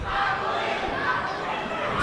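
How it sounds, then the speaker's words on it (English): Basketball crowd at a Norristown boys varsity game chanting "I believe that we have won," a dense, sustained roar of many voices filling the gym, steady and loud throughout. "the crowd is chanting the I believe that we have won"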